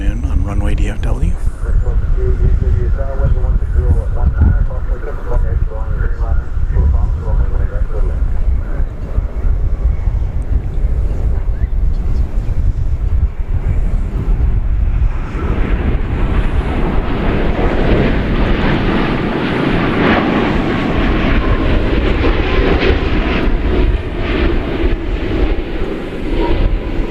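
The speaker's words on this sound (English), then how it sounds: "this is our first wide body landing of the afternoon on Runway DFW" A wide-body airliner lands on a runway at DFW Airport, its deep, heavy roar swelling and then holding steady. Wind buffets the microphone throughout, and a voice talks during the early part.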